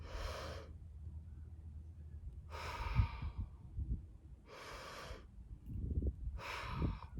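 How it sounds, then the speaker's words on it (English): Four slow, evenly spaced breaths, loud and airy, from a group of children breathing in and out together, with quiet low rustling between them and no talk. "Put your hands over your chest and breathe."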